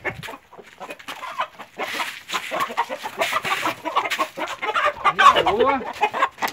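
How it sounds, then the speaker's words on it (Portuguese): A black crested Índia tupete hen that is starting to lay clucks close by in a run of sharp, irregular calls, with someone talking between and over them. "Tirando uma cruz com a galinha preta."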